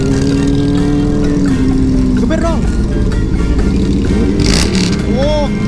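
A Harley motorcycle engine revs and rumbles loudly and steadily up close, with people talking over it throughout.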